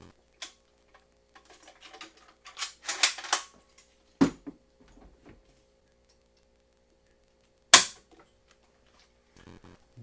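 Dry-fire trigger break on a reproduction 1903 A4 rifle loaded with a snap cap: a handful of small clicks and rattles, then two sharp isolated snaps, close and otherwise quiet.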